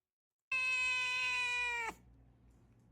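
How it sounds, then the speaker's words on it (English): A cat lets out a single loud, drawn-out meow close up, lasting over a second and dropping in pitch as it ends, followed by quiet room noise. "Cat videos."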